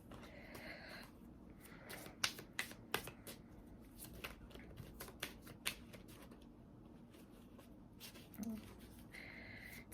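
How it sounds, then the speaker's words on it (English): Tarot cards are shuffled by hand in a quiet room. Soft, irregular riffling snaps and slaps sit near but faint over a low background hiss. "whenever I shuffle"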